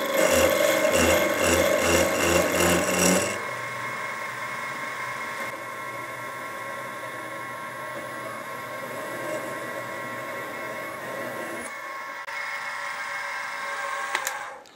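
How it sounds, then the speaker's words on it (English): A 6mm stub drill boring through the fork of a conrod for a Stuart half beam steam engine, a loud pulsing machine whine at first, then a steady lathe or drill hum with a high tonal ring that continues to the end. "now I'm going to drill through with this 6mm stub drill"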